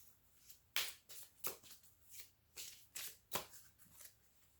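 Oracle cards shuffled by hand in a series of quick riffling bursts, close and fairly soft, with short pauses between each run.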